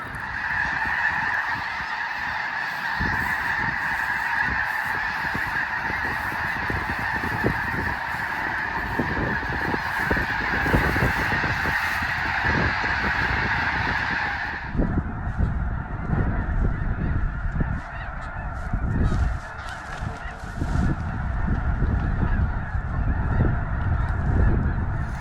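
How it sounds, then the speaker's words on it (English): A huge flock of snow geese honks continuously at a wildlife refuge, a dense, loud chorus of overlapping calls with wingbeats and rustling mixed in, steady for the whole stretch with no talking. "we had to come check out the refuge where all of the snow geese go into hiding"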